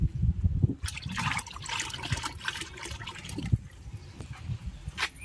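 Diluted liquid fertilizer made from three-day-old kitchen waste pours and trickles onto garden plants. The splashing and dribbling is irregular and fairly quiet, with no voices.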